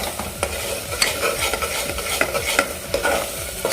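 Chicken masala with turmeric being stirred in a hot pan, a steady run of scraping, clattering spoon strokes over a soft sizzle, close and fairly loud with no voices.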